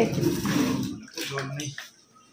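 Water gushes from a tap into a container at home, a steady rushing stream for about a second that then cuts off, followed by quieter clatter and a faint voice.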